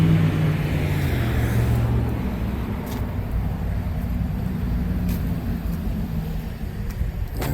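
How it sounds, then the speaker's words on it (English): Heavy trucks idle and rumble steadily at a downtown demolition site in Shelbyville, Indiana, a continuous low engine drone with a brief deeper surge near the start and no talk. "I brought some of the trucks over here, some of the new trucks."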